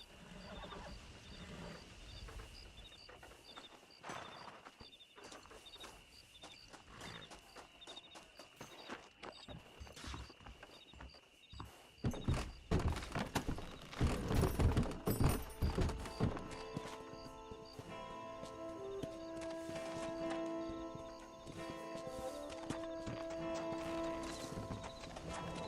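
Horses pulling a wagon in the video game Red Dead Redemption clip-clop in a steady rhythm with a neigh, first fairly quiet, then louder and busier with game music and effects building around them.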